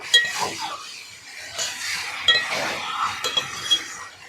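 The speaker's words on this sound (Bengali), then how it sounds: "ভালো করে নাড়াচাড়া করে নেব" Spatula stirring Lote fish curry in a pan for a Sundarban village cooking recipe: repeated scraping and clinking strokes over a soft sizzle, close and irregular, with no one talking.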